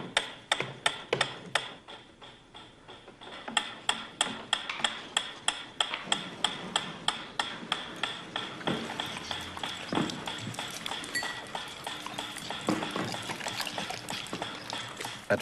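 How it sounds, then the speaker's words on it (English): A metronome ticks in a steady, regular rhythm, sharp clicks repeating one after another at close range with no voices, the beat continuing evenly throughout. "A ticking metronome."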